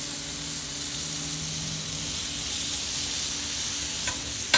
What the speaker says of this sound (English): Oh yeah, hear that nice little sizzle.